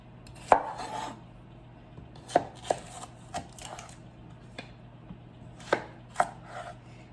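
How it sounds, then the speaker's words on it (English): Knife chopping two cucumbers for a salad on a board, a handful of distinct sharp thuds spaced irregularly with softer cuts between, close and fairly quiet, no talking. "And I'm gonna cut 2 cucumbers."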